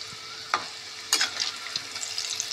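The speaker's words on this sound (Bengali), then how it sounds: "চলুন ভাজাগুলো আগে ভেজে নিই" Lentil vadas for dahi vada fry in a karahi of oil, giving a steady soft sizzle with a few brief louder crackles and stirring clinks, close by and with no voices.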